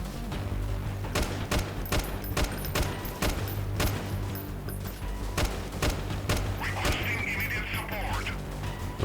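Rapid bursts of gunfire from weapons in the guerrilla warfare game Freeman: Guerrilla Warfare, repeated volleys and sharp cracks over constant battle noise and a steady background hum, with a voice talking throughout.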